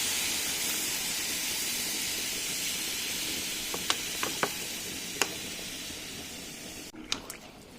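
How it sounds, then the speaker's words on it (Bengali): Water poured into browned meat in a hot pan erupts in a steady steaming hiss and sizzle, quiet and continuous, with a few sharp pops and clinks toward the end. "দিয়ে দিচ্ছি জল।"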